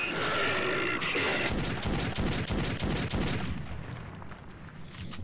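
Rapid bursts of gunfire from the first-person shooter Metro 2033, a dense run of loud shots filling the first few seconds and then thinning out toward the end.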